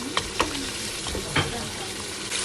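Canned tomatoes sizzling in a pot for lamb biryani, a continuous close frying hiss with a few brief stirring knocks.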